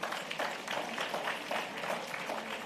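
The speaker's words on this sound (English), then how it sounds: "I think they deserve a very special round of applause." Audience applause honours long-serving sponsors at a stock exchange regional investments and capital markets conference. The clapping is steady and fairly faint, a dense wash from a crowd that holds evenly through the whole stretch without any talk over it.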